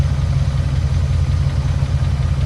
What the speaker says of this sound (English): The engine's still running rough there